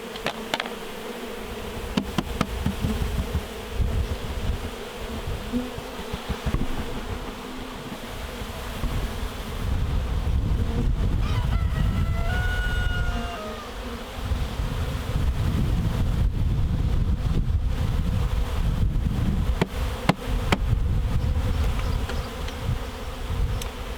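Honeybees fly back to their hive in an apiary, a dense buzzing swarm that stays close and steady throughout, with some wind noise over the microphone and no talking.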